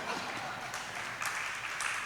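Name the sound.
audience applause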